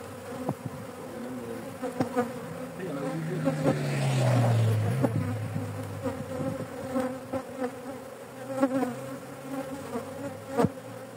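Honey bees buzz close by around a hive that has swarmed, a steady insect drone with a louder bee passing near the middle, over faint background clicks and knocks.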